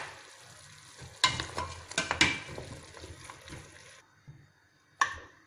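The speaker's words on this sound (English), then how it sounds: "Give it a good stir." A pot of home-style bone soup with dry chili and carrot is stirred, giving a few clattering scrapes over a soft bubbling sizzle, then quieter simmering and a final knock.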